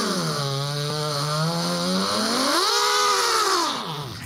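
Power drill whining as it bores into a wall, a loud sustained motor tone that dips and rises in pitch as load changes, then trails off at the end.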